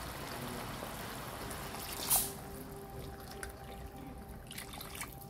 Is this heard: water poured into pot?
yes